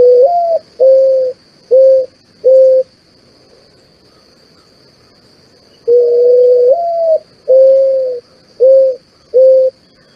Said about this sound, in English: these are mourning doves, and they get their name because of their sad call